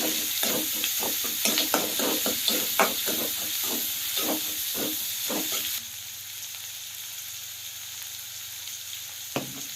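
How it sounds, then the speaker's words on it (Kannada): Tomatoes fry in a pan for a spinach gravy, a loud close hiss with a quick run of rhythmic stirring scrapes that stops, leaving a quieter sizzle and one last clink. "ಇವಾಗ ಟಮಾಟೆ ಚಲೋ ತಂಗಿ ಇದನ್ನ ಫ್ರೈ ಮಾಡ್ಕೋಬೇಕು ನಾವು"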